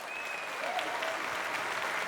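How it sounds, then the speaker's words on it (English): A large conference audience at a broadcasting trade show opening session applauds honorees, sustained dense clapping filling the hall at moderate level, with a faint tonal whistle or feedback trace drifting over the first second. "Let's give them both a round of applause."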